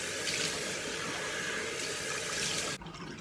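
Tap water runs steadily into a sink while a face is rinsed during a skincare routine, a close, even rush that stops abruptly near the end.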